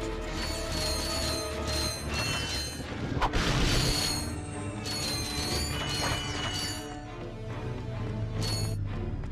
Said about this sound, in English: now we got a bunch of bolts to pick up.